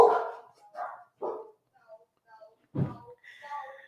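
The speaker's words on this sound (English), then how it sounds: "You hear my dogs?" Pet dogs bark a few times in the background indoors, short separate barks spread across the moment with a thud and a faint voice between them.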